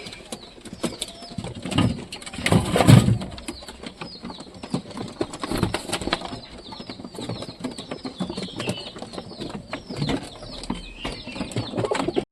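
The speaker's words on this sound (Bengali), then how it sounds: "দেখতে হচ্ছে সব কবুতর মোটামুটি খাচ্ছে" Pigeons feeding inside a loft fitted with new nesting boxes give soft, faint cooing mixed with light wing flutters and scuffling that carries on throughout, with no talking.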